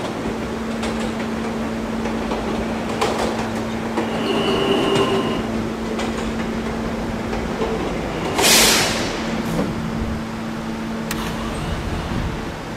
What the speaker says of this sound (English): The Catalan bound D train.